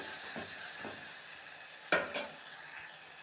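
Tomato and capsicum curry is stirred in a pan, with a soft, quiet scraping of the spoon over faint background sizzle and one sharper clink partway through.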